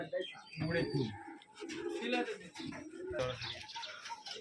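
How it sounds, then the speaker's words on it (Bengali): Rajshahi giribaj pigeons coo in low, throaty bursts from a crowded loft. Other birds chirp faintly, and soft speech runs underneath. "পুরো টিন লোড কবুতরে দেখতে পাচ্ছেন"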